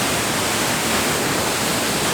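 A secluded jungle waterfall on Lombok, Indonesia, gives a loud, steady, close rushing roar of falling water with no breaks and no voices.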